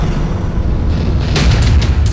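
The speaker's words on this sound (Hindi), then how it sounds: "ये आतिशबाजी नहीं, अग्निबाण थे।" Fire arrows burst in the sky as a wartime signal, a loud rumbling boom swelling midway and holding over a dense, roaring background.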